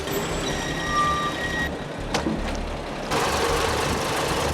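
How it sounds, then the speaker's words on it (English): A tractor engine idles and rumbles nearby while loading seaplanes into the water, a reversing beeper chirping steadily for the first half, then the engine noise continues alone. "The tractor buzzing around, loading the planes into the water."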